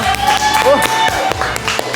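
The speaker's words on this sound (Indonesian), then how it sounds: "Tepuk tangan untuk kita semua" Classroom of students clapping in a microteaching lesson, a short burst of fairly loud, close applause that stops and starts again, with voices mixed in.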